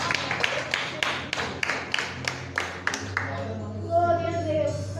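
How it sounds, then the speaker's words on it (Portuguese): Church congregation clapping together in a steady, rhythmic beat of about a dozen claps, fading out as a voice carries over the room. "Aplauda ao Senhor."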